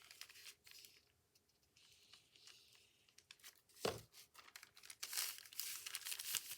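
Paper bag being folded and pressed shut into a pocket, close crinkling and crumpling with a sharp crunch midway and a busier rustle of paper toward the end.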